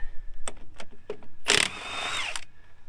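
Pneumatic impact gun on lug nuts of a 1975 square body dump truck wheel, a few short rattling bursts followed by one longer loud hammering burst that trails off, close by with no talk.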